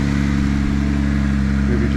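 A car engine with a lit check-engine light, now running smoothly, idles steadily and loudly up close with an even low rumble and no talking.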